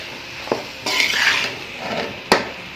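A spoon scrapes and clinks against a pan while kachnar buds are mixed into minced meat keema, with a couple of sharp metallic taps and a soft sizzle underneath, close and moderately loud.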